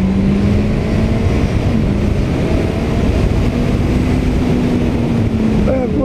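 A Honda CBR650R motorcycle engine drones loudly and steadily at speed, with heavy wind roar throughout and a slight fall in pitch as it brakes and shifts down through the gears.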